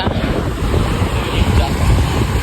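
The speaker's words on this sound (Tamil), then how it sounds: "ஃபுல் காற்று, ரொம்ப காற்று." Strong wind buffets the microphone with a low, continuous rumble, while surf churns in the background at a beach in Varkala, Kerala.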